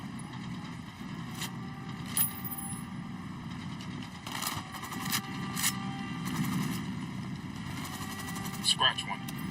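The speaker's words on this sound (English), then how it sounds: "Choppers approaching." Helicopters approach in the video game Ghost Recon Wildlands, a continuous low rotor and engine drone building in loudness, with sharp bursts of gunfire cutting in at intervals.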